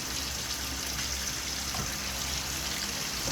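Steady, close sizzling and fine bubbling of butter and olive oil in a hot pan, continuous with no talking.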